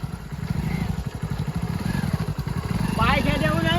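A motorcycle engine runs nearby with a steady low putter throughout, rising slightly toward the end while people talk over it.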